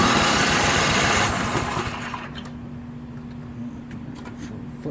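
A snowblower engine turns over on a newly fitted electric starter, a loud steady mechanical drone that fades into a quieter, even running hum after a second or so, with no voices.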